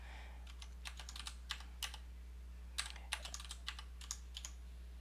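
Keys clatter on a computer keyboard in quick, irregular bursts of typing, close and fairly quiet, with short pauses between clusters of keystrokes.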